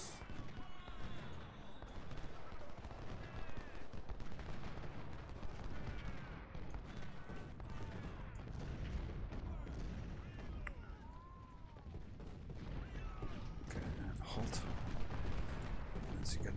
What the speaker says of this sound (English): This guy firing into his flank.